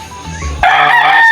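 A six-month-old Alimbuyugin rooster in a backyard lets out a loud, close crow that starts abruptly after a short stretch of low background noise and holds steady to the end.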